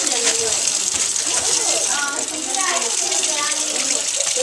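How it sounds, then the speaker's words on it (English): Tap water runs steadily into a sink while hands are rinsed, a loud continuous gushing splash with a voice talking over it. "you are going to rinse your hands off"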